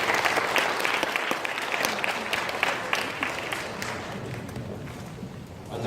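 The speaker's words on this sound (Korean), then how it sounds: "큰 박수로 맞이해 주시기 바랍니다" Sustained applause from an audience at a school talk on university admissions and high school choice, welcoming a guidance department head; dense, steady clapping throughout with no speech, tapering slightly near the end.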